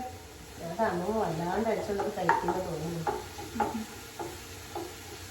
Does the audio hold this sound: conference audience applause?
no